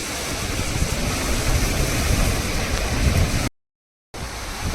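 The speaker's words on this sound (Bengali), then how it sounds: "বেশ ভালো বৃষ্টি শুরু হয়ে গেছে" Heavy rain pours down steadily over rocks outdoors, a loud, dense wash of broadband noise that runs without pause before cutting out briefly and resuming.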